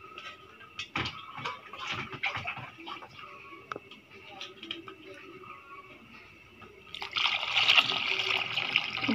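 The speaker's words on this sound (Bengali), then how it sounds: "আর একটু পানি দিব" Water trickles and splashes into a pot of lentils being cooked, with scattered clinks and kitchen handling noises, then a louder, steady pour of water near the end.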